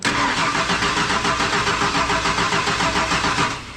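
A Ford engine turning over and catching, loud and close, with a steady mid-pitched running roar held through the clip before it tapers off at the end.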